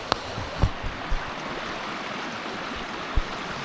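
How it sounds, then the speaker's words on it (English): A river flowing at Ocqueoc Falls in Michigan's lower peninsula in autumn, a soft steady rushing wash with a few faint clicks and knocks, moderately distant and quiet. "So here's this river."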